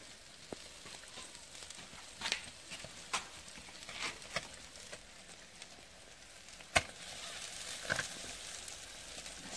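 Fish sizzle over a home fireplace while being turned, a soft steady crackle and hiss punctuated by several sharp clicks and taps from handling, faint and close.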